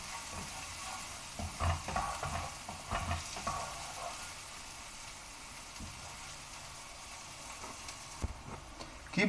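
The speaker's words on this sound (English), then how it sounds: "Keep stirring the onions in a medium high flame so that you can do it earlier and it gets browned." Chopped onions stir-fried in a pan over medium-high flame, a steady low sizzle with occasional scraping stir strokes and clinks, fairly close and moderately quiet, with no talking.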